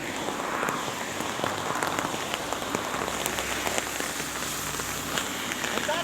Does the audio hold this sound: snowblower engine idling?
no